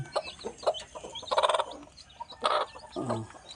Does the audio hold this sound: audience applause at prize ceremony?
no